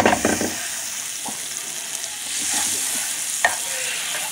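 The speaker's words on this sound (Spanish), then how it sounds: "Ahora nosotros tenemos una sartén en la estufa y vamos a agregar mantequilla." Unsalted butter sizzles in a frying pan on the stove with a steady, close hiss, broken by a few stirring clatters near the start and a single knock later, with no talk.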